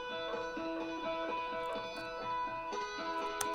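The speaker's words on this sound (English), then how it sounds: "I recorded a real guitar, which I recently bought." Real guitar playing through distortion and compression effects, sustained tones ringing steadily with a soft rhythmic pulse beneath, close and fairly loud with no voice.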